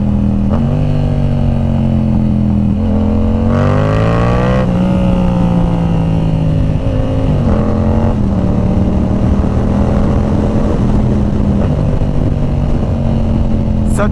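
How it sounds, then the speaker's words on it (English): A Yamaha R7 sportbike with a full aftermarket exhaust system drones loudly, its tone stepping and rising through several downshifts and blips, close and continuous without a break. "listen to this exhaust. This is why every single R7 owner needs a full system."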